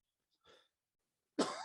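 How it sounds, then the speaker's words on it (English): A quiet breathy sound is followed by a single sharp, harsh cough up close, loud against near silence. "gonna die of coughing"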